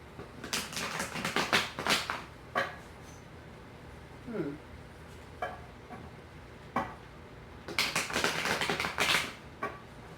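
Bursts of crisp tarot card riffling and fluttering, a few quick shuffles separated by short pauses and softer taps, close and fairly loud.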